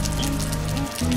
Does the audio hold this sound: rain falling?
yes